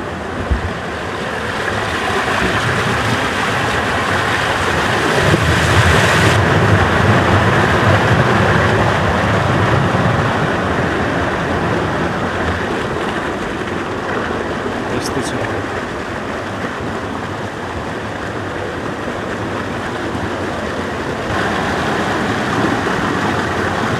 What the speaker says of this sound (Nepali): खर्दु प्रोजेक्टको चौथो नम्बर ड्यामको अवस्था देखाइरहेको छु तपाईँहरूलाई। पानी गजबले बगिरहेछ